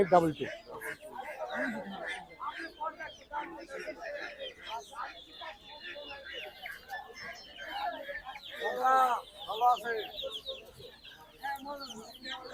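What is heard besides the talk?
native chickens clucking at a poultry and bird market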